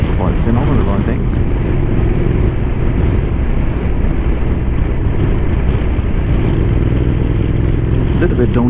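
A motorbike ride at speed on a dirt track in Norway, with a steady engine drone and heavy wind rumble throughout, loud and continuous, with some speech faintly under the noise.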